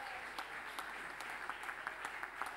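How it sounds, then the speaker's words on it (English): Audience applause at a swimming awards ceremony, a steady wash of crowd clapping heard faintly from a distance, with sharper individual claps standing out and no one speaking over it. "Round of applause. Come on, ladies and gentlemen."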